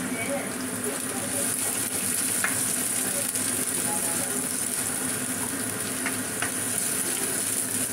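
Onion for ginisang ampalaya sizzles steadily in a hot pan, a close, even frying hiss with a few soft clicks of stirring.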